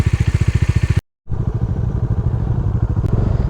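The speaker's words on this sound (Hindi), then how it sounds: "अपनी बाइक शुरू हो गई है।" Motorcycle on a camping trip near Kanatal, a close engine thumping in a rapid even rhythm, then cut off by a brief gap before it picks up again with a steady, loud running rumble.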